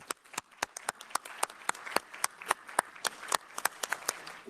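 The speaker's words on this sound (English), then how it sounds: "I hope you could hear the applause" An audience at a conference applauds, a moderately distant patter of many hands clapping steadily throughout.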